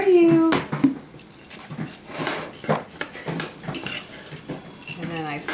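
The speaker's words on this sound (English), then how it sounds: "And then I stir all this in." A metal spoon stirs puppy food in a bowl with quick clinking and scraping, while hungry puppies whine at the start and a person talks throughout.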